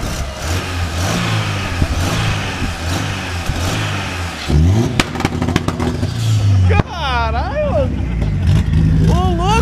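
A turbocharged Chevrolet Celta engine revs hard several times with sharp rising and falling whines and pops, loud and close, while people talk and exclaim over it.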